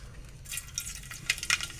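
Mustard seeds and cumin sizzle and crackle in hot oil in a cooking pot, with bright, sputtering pops and a soft fry that starts about halfway through the short stretch, close and fairly quiet.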